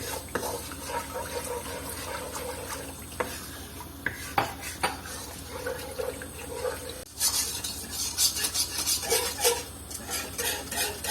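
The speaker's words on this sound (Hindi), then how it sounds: "हम इसके अंदर ऐड करेंगे आधा कप पानी का, इसको हिलाते जाएंगे।" Water is poured into a white sauce in a pan and stirred steadily, with spoon scraping, liquid sloshing and clinks against the pan, close and moderately loud, with a busier splashing burst near the end.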